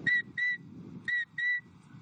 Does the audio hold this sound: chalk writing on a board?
no